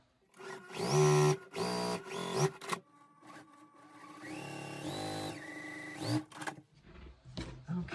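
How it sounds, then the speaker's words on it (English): A domestic sewing machine runs in short bursts and one longer stretch, stitching a quarter-inch seam on a half square triangle quilt unit. The motor whirs up and stops between runs. "I am going to sew a 1/4 inch on each side of the drawn line"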